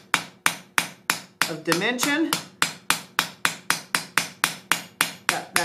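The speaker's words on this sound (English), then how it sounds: "And I'm just going to hammer straight down the center." Steady, evenly spaced ball peen hammer blows on hot steel ring out one after another while forging, with a short pause partway through where a voice speaks briefly.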